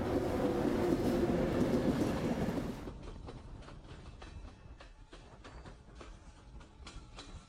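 A train on the Kalka–Shimla mountain railway rumbles steadily along the rails for a few seconds, then the sound drops to a quieter, rhythmic clatter of wheels over track joints.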